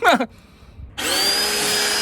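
A chainsaw starts up after a short quiet gap and runs at a steady, loud, high-pitched whine to the end, following a brief burst of noise at the start.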